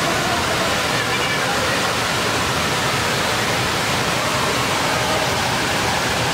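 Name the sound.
Wei Sawdong waterfall rushing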